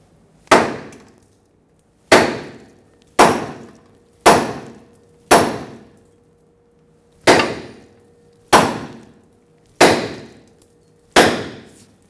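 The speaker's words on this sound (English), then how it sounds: "let's tap the pitman arm right here and separate the stud" A hammer strikes the pitman arm of a 2000-2005 Ford Excursion steering linkage to free the stud, nine sharp metallic blows with a short ring, spaced unevenly about a second apart, loud and close.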